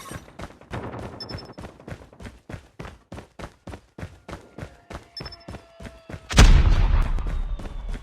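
Rapid bursts of automatic gunfire in the Call of Duty Mobile video game, a steady run of sharp shots followed by a heavy booming blast that rumbles and fades out.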